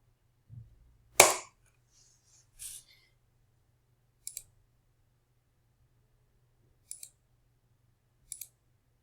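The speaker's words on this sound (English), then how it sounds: "And then you click repeat dispense." Computer mouse clicks while operating pharmacy software for repeat dispensing: a louder click burst early on, then a few sharp, quiet clicks spaced across an otherwise quiet room.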